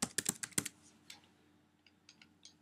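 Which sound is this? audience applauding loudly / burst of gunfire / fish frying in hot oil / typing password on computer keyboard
typing password on computer keyboard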